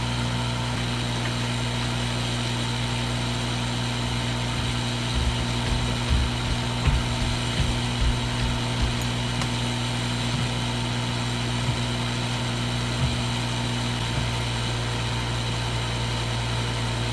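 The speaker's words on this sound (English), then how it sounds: "take the hot air once again and heat the board" A hot air rework station blowing steadily over an M1 Mac Mini circuit board to melt solder, a constant droning hum with a faint low rumble and a few soft handling knocks, close and with no talking.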